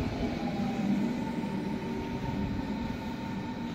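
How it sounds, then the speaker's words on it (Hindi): A train pulls into a Berlin station from the opposite side, a steady rumbling roar of wheels and carriages that holds loud and even for a few seconds with no voices over it. "ये मुखालिफ साइड से ट्रेन आ गई है"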